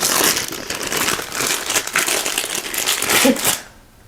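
Packaging around a collectible figurine being ripped open by hand, a close, busy run of crinkling plastic and tearing that stops abruptly near the end.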